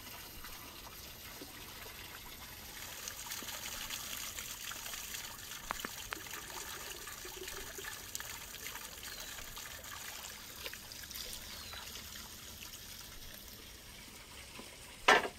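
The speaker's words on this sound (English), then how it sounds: "I put a basin on the fire and go to fill some water to add it to the dish." Outdoors, water trickles steadily into a basin being filled for cooking, a faint continuous pouring over quiet ambience with a small clatter at the end.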